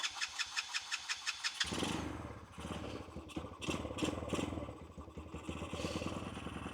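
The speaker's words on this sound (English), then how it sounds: "Let's first see if we can start her up" A Boom Vader 125cc motorcycle engine with an aftermarket exhaust and a carburetor needing air-fuel adjustment cranks with rhythmic starter chugs, then catches and runs, settling into a busy, uneven idle close by.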